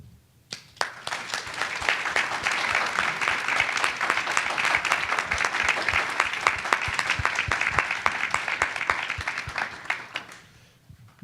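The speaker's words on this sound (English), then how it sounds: "So we applaud your courage." An audience at a gun reform panel event at The New School breaks into applause that swells quickly, holds steady as a crowd of close, crisp claps for several seconds, then fades out.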